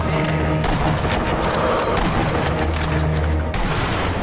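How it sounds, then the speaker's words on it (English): Close-range gunfire in the video game Sniper Elite V2, a loud burst of repeated shots over dense game noise, with several sharp bangs spaced across the moment. "Someone shot me close up."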